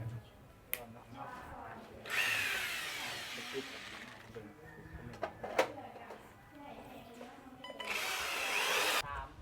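An electric drill whirs in two separate bursts, nearby and moderately loud, drilling holes for electrical wiring in a new house, with someone talking in between and a few clicks and knocks.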